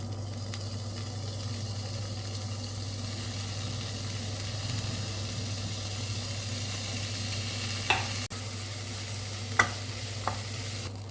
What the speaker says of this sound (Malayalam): ഈ മട്ടർ ഗ്രീൻ പീസ് ഗ്രീൻ പീസും ഒന്ന് ഫ്രൈ ചെയ്തെടുക്കും